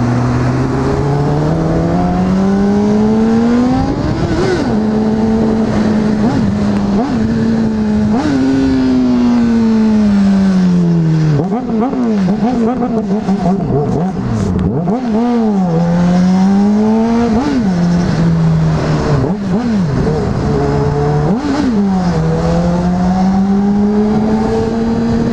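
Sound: Honda CBR600RR motorcycle riding, engine

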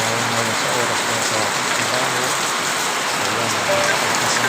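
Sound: rain

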